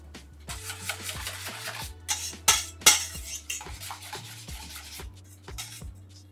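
A spoon or whisk clinks and scrapes against a bowl while coconut flan batter with grated coconut and lime zest is mixed. The strokes are irregular and close, with a few sharper knocks near the middle, and no voices.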